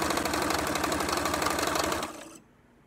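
A sewing machine hums steadily while chain-piecing half rectangles, running loud and close for about two seconds before winding down and stopping.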